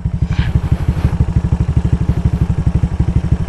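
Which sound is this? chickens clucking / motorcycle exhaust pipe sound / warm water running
motorcycle exhaust pipe sound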